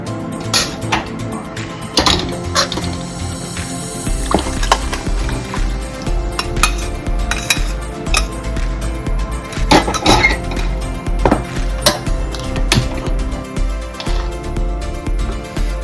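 Mutton gravy stirred in a pot as the meat is fried down, with a spoon repeatedly clinking and scraping against metal in an irregular rhythm, loud and close.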